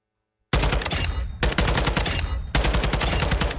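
A Taq-56 rifle fires in Modern Warfare II: after a moment of silence, three long fully automatic bursts of rapid, evenly paced shots ring out loud and close, separated by brief pauses.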